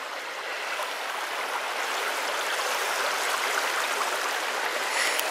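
The River Lynn at Waters Meet rushes in a steady, broadband flow of water, a constant close wash of streaming sound with no voices over it.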